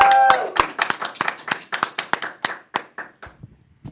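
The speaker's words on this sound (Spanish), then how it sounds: "Vamos a despedirla también con un fuerte aplauso." Applause from a small audience at a Spanish-language faith talk show, distinct individual claps thinning out and fading to a few scattered final hits, with faint background voices at the start.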